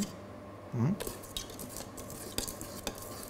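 A utensil scrapes and stirs gluten-free carrot cake batter in a bowl, soft repeated strokes with light clinks against the side, close and fairly quiet, with no talking.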